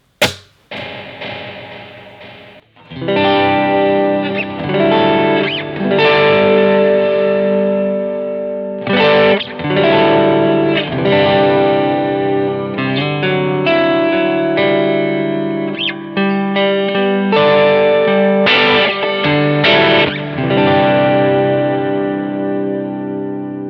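Guitar played through a delay pedal whose repeats are washed in reverb gives sustained distorted, chorus-tinged chords that ring out and echo into long decaying tails, loud and alone, with fresh strums every few seconds.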